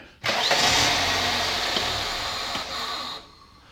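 A running Toyota car engine with a working idle air control valve, a steady mid-pitched engine whir that starts abruptly, holds nearly level, then cuts away near the end.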